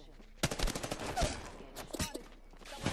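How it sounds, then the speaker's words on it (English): Video game gunfight with bursts of rapid gunfire and sharp individual shots crowding a short stretch, loud and dense, with a voice briefly speaking over the shooting. "Oh my god, what a gunfight."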